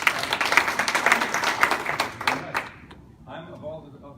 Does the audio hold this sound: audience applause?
yes